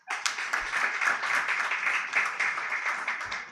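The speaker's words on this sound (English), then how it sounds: "Another round of applause." Applause from an audience at a charity cheque presentation, a dense, steady patter of many hands clapping for a few seconds.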